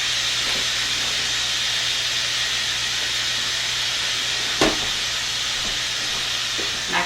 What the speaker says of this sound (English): I don't want all that steam going directly onto my lights